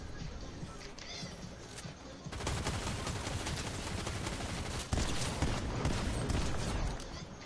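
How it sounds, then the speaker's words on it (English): Rapid shotgun fire in a video game, a dense continuous barrage of blasts that grows louder partway through and stays quiet and compressed throughout. "That shotgun fast as hell, bro."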